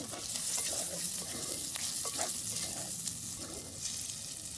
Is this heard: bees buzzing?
no